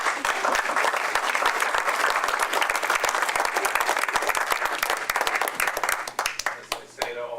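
Audience applause at a town council meeting, sustained crowd clapping with sharp individual claps standing out, fading near the end.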